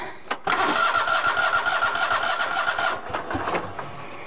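A Kohler Command 25HP small engine with 764 hours on it and its oil drained cranks briefly, catches and runs rough and loud for a few seconds before dropping off, followed by sputtering pops.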